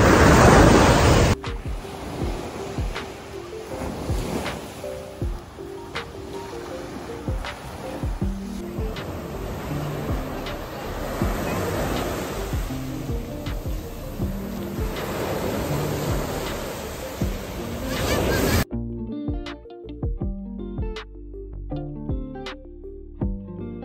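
Surf rolling onto the beach at Palm Cove near Cairns, a steady wash of breaking waves with wind buffeting the microphone, cutting off abruptly near the end.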